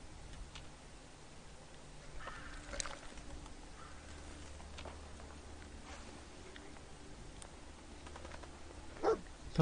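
Sporadic dog barks in a Fallout video game, faint and distant against a steady low background hum, with a few sharper yips near the end.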